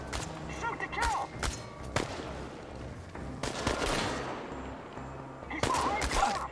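Gunfire bursts in the video game Chernobylite, with sharp shots and fusillades sounding repeatedly across the clip amid the clutter of battle, including a dense cluster near the middle and another near the end.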